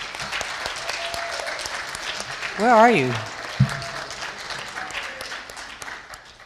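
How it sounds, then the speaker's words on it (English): An audience claps steadily throughout while a voice briefly calls out over the applause. "let's give a round of applause"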